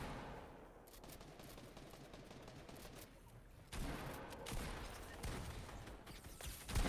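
Gunfire from Fortnite, a steady crackling stream of rapid shots that swells louder after the midpoint and keeps going to the end.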